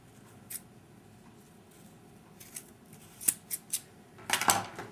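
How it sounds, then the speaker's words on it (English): Scissors cutting felt into pieces for a sheep decoration: a few soft, separate snips followed by a quick run of closer, crisp cutting strokes over a quiet room background. "cut it in half, and then cut those 2 in half"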